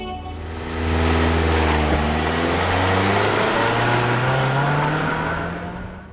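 A 2022 Toyota Corolla Cross with a CVT accelerates hard from a standstill in first gear, its engine drone swelling loud and steady as the pitch climbs, then easing off at the end.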